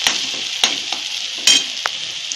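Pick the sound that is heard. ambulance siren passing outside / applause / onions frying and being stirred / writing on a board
onions frying and being stirred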